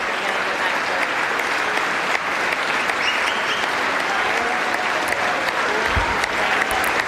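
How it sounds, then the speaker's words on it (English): An audience at the United States Capitol stands and claps after the House speaker vote that elected Mike Johnson, with sustained, dense applause running throughout and a voice talking over it. "Everybody seems to be standing and clapping"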